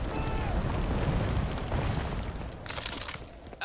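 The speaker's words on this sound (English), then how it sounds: "Mortars incoming!" Mortar shells exploding in Crysis 2 Remastered during a battle: a long, heavy, rumbling roar of blasts with debris crackling, then a brighter burst near the end, mixed with faint battle chatter.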